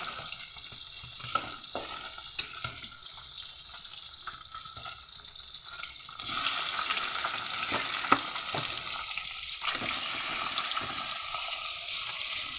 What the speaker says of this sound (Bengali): আমি মাছগুলো ভেজে নিচ্ছি